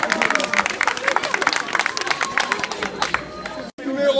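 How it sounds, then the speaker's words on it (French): Lively applause from a crowd of students in a vocational high school at Château-du-Loir, rapid clapping with some murmuring and voices mixed in. "On a le droit d'applaudir, ça fait toujours plaisir."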